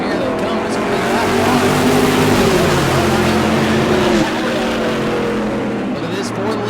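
Race cars roar down the long straightaway at New Smyrna during a season-opening race, close and loud with layered engine tones, while an announcer talks over them.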